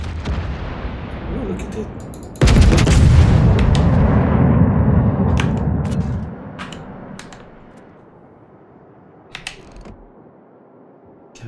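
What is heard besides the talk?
warship guns firing shells, from video game World of Warships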